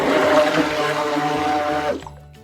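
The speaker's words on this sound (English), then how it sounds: "I'm pouring the rest of it in here because we're gonna pour this off fast" Liquid peach soap batter poured steadily into a container, a continuous splashing, gurgling stream that tapers off near the end, with no voices over it.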